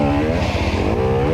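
A dirt bike engine snarls up close during a hard enduro race, a brief loud burst with a throbbing, uneven rev as the rider struggles for traction.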